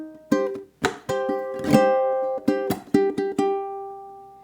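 Ukulele playing measure 11, a run of sharp plucked notes and chords in a lightly swung rhythm, close-miked and alone with no voice.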